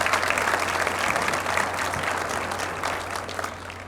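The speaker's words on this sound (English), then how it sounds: "please give all these people a round of applause" Guests at a college foundation luncheon give a round of applause, with thick, continuous clapping that starts strong and gradually tapers off over about four seconds.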